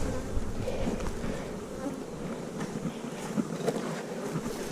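Honey bees at an open, honey-heavy hive being readied for winter hum in a steady, dense buzz that fills the whole stretch, close and fairly loud with no talking.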